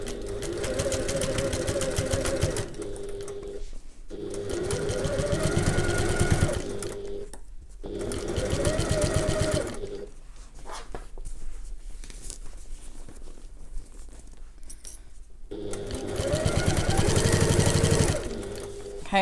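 A sewing machine stitches a handbag seam with a back stitch, whirring in several steady bursts separated by short pauses, loud and close, with someone talking between and over the runs.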